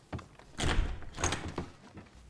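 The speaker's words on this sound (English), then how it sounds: "It seems that lever upstairs unlocked this door." A wooden wall panel door in a video game unlocking and opening: a few dull knocks and thuds followed by a longer scraping slide, ending in softer settling bumps.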